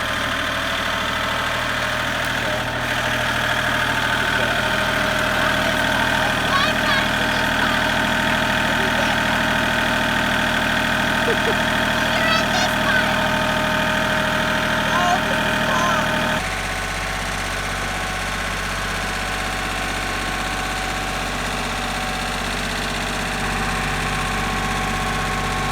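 A farm tractor's engine idles steadily on a pasture being cleared, a continuous low mechanical drone with faint knocking, shifting to a slightly different pitch partway through.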